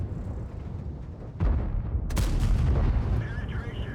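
A tank cannon firing in World of Tanks: a sharp, loud blast with a low rumbling tail over steady engine drone, followed by mechanical clatter.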